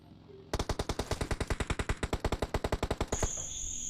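Rapid automatic gunfire in a battle royale video game, a loud steady burst of about thirty evenly spaced shots lasting nearly three seconds, then an abrupt stop.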